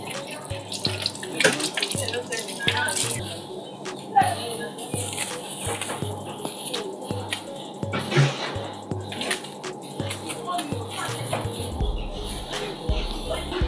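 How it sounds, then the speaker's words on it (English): Tap water runs steadily into a sink during handwashing, a continuous splashing hiss with faint background sounds and no speech. "So I need to wash my hands first."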